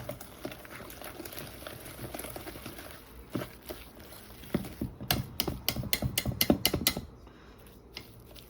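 Repeated scraping and clinking of a utensil whisking pancake-style fish batter with Old Bay seasoning and water in a bowl, building into quick rhythmic strokes in the middle, then stopping.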